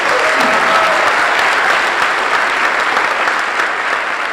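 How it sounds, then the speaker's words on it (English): Loud, sustained applause from the audience at a high school spring band and vocal concert, a thick, even roar of many clapping hands with faint crowd voices mixed in. "How about another round of applause for that awesome song you sang?"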